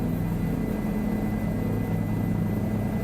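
A helicopter in Microsoft Flight Simulator 2020 gives off a steady, unbroken rotor-and-engine drone. It stays at an even loudness throughout with a low rumbling hum and no voices.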